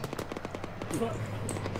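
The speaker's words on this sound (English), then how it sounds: "That is an alarming amount of explosions going off right now." Rapid bursts of gunfire and explosions pop and crack in a video game, a dense stuttering volley under ongoing chatter from players.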